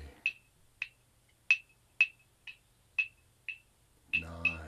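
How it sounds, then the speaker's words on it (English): Claves struck at a live drumming workshop: nine sharp, woody clicks in a loose, uneven rhythm, fairly faint and set apart by silence, with a brief voice coming in at the very end. "that is a little bit of clave."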